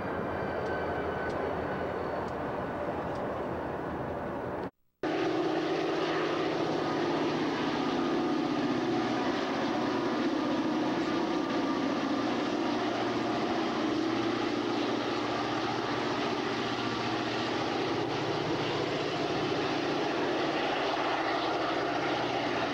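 A CSX freight train led by a locomotive in B&O paint passes at Chestertown, its engine a loud, sustained rumbling drone with a low hum that runs on for over twenty seconds after a brief cut near the start.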